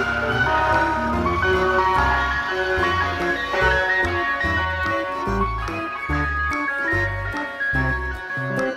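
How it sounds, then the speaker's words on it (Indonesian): Toy ice cream truck playing a loud, steady electronic jingle melody with a pulsing bass line, close up and continuous with no talking. "Di sini ada mobil es krim"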